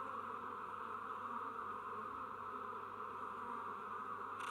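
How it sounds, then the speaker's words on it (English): A huge swarm of bees covers a man's body, making a dense, steady buzzing drone that holds at an even loudness throughout, with no voices. "he was absolutely overflowing with the flying insects"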